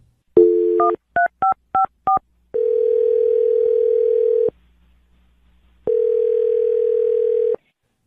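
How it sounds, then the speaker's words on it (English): Touch-tone phone dialing a number: a short tone, then a quick series of distinct button beeps, followed by two long steady ringing tones separated by a silent gap, loud and close. "I'm going to dial James' phone number right now"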